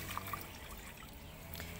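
Water poured away after washing wild termite mushrooms, a steady low trickle and pour running for about two seconds at moderate level, with no voices.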